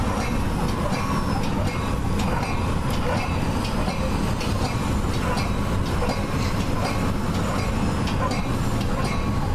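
Metra BNSF commuter train at the Route 59 station, a steady loud rumble of rail cars with rhythmic clickety-clack of wheels over the track joints and no talk.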